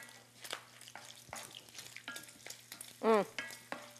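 Bacon frying in a pan gives a faint, steady crackle. Soft clinks and scrapes of stirring run through it, with one louder utensil clatter near the end and no talking.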